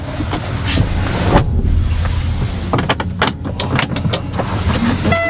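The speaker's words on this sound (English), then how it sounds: "I'm gonna start the truck." A 2021 Kenworth T880 quint axle dump truck cranks and starts, with clicking and mechanical clatter over a steady low engine rumble, close up and fairly loud throughout.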